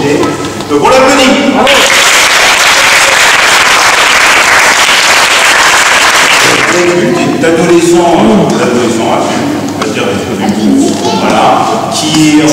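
At a fencing club's end-of-year party, a crowd breaks into loud, dense applause for a young fencer, then thins into scattered claps under talking voices.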